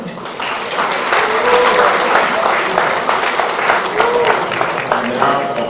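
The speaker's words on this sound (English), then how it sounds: "Let's clap for him." An audience claps at an award presentation, the applause continuous and fairly loud throughout, with a voice speaking over the clapping.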